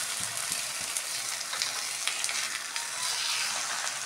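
A bottle gourd paratha cooks on a hot oiled griddle, giving a soft, continuous sizzle and light crackle, quiet and steady throughout with no one talking.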